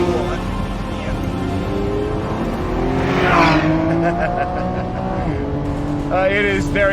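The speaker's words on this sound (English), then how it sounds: "Nice 4-wheel drift on entry if you trail the brake in" Lamborghini Revuelto, a 1001-horsepower 2024 supercar, drifts on all four wheels through a corner, tires squealing over a loud engine note that shifts pitch, with someone talking throughout.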